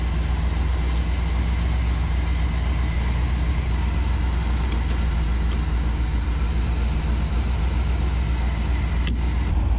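An old 1976 GMC Sierra pickup that had been sitting abandoned idles steadily nearby, a continuous low rumbling engine drone without revving.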